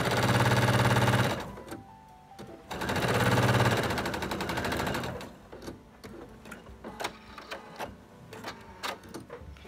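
A sewing machine stitches a placemat seam in loud steady bursts, first a long run, a pause, then a second run, followed by scattered clicks and handling noises as the fabric is adjusted.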